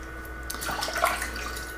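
Water splashes and trickles at a sink as a razor is rinsed during a wet shave with a Gillette Aristocrat safety razor, a soft brief burble rising and fading over a steady low hum.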